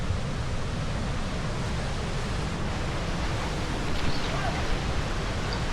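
A forest waterfall in Karnataka roars as a dense, unbroken wash of rushing water, loud and close, holding steady for the whole stretch with no other sounds standing out.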